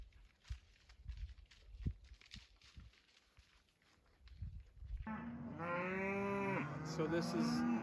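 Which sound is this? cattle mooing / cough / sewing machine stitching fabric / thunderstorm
cattle mooing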